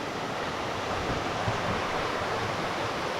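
A forest waterfall rushes in a constant, dense roar, loud and steady throughout with no pauses or voices.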